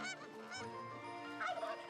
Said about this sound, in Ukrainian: Гусі.